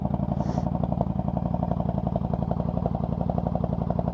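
A 1999 Yamaha V Star 1100 Custom idles close by, its exhaust giving a deep, loping, evenly pulsing thump with a faint metallic clatter over it.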